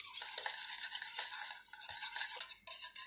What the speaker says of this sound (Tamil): இது ரெண்டையும் நல்லா மிக்ஸ் பண்ணிக்கலாம்.